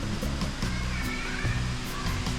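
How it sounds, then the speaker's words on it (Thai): Chanta Then waterfall pouring steadily, a loud, dense and unbroken roar of falling water close by with no voices. "มีเสียงน้ำตกไหลตลอด"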